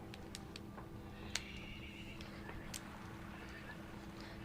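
Horses walking down a ramp, their hooves clip-clopping in a few scattered, uneven knocks over a low steady background hum, fairly faint.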